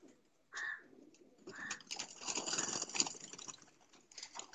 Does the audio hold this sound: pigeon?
yes